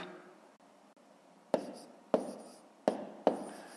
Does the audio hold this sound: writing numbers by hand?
yes